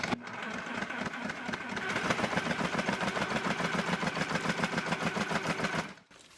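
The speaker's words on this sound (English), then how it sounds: "got it hooked up to my Sawzall" A Sawzall reciprocating saw drives a homemade worm sifter with 1/4 and 1/8 inch screens, giving a steady, loud rapid chatter and buzzing rattle that runs for about six seconds, then cuts off abruptly.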